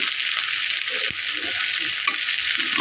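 Tomatoes hit hot oil in a pan for a rohu fish curry, giving a steady, close sizzling hiss with faint stirring clicks.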